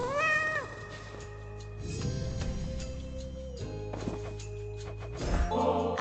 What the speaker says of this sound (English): You're an impressive cat.